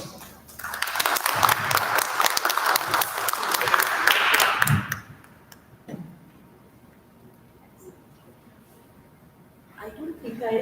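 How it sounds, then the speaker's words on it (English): Enthusiastic applause from a lecture audience, dense and steady for about five seconds, then it stops and the room goes quiet apart from faint shuffling. "welcoming exceptional Professor Sudeshna Sinha with a thunderous applause"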